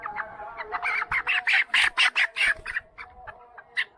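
Chickens cluck and squawk in a burst of rapid, loud calls close by on a poultry farm of young broiler birds, rising to a dense flurry then thinning to a few scattered clucks.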